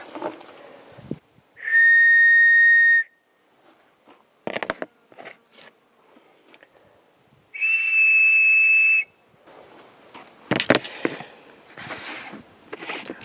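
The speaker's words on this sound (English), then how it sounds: "And yes, the whistles do work." Two loud, sustained shrill whistle blasts about five seconds apart, each lasting over a second, with handling clicks and rustling between.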